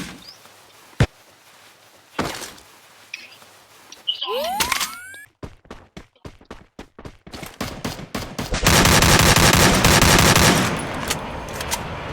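Free Fire battle royale gunfire: scattered single shots early, then rapid bursts of automatic fire building into a loud, sustained volley near the end, with brief mechanical clicks between.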